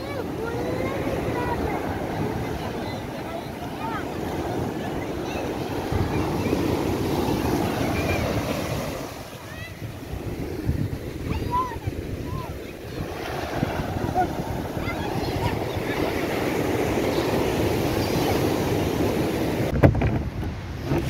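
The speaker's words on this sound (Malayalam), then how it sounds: "അപ്പോൾ ഇതാണ് ഒരു വള്ളം വന്നിട്ടുണ്ട്. ഒരു പിടിച്ച് കയറ്റുന്നുണ്ട്." A fishing boat is hauled up onto a beach while sea waves roll in. Loud, steady surf and wind rumble fill the whole stretch, with a faint murmur of voices in the background.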